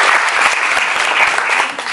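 Audience applause at the NYX Face Awards 2017 in Australia and New Zealand: dense, steady clapping from many hands, loud and close, continuing without a break.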